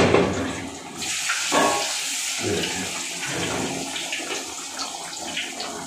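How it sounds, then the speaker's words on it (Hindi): Fish frying in mustard oil for a dhaba-style fish fry, a loud, steady broadband sizzle that runs throughout, with a sharp burst at the start and a few shifts in intensity as pieces are moved. "इस तरीके से आप इसको फ्राई कर लें"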